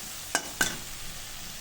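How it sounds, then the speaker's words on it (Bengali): Spice paste for a spicy boal fish curry frying in a pan, with two quick spatula scrapes over a soft, steady sizzle, close and fairly quiet. "এবার মশলাটাকে কষে নেব।"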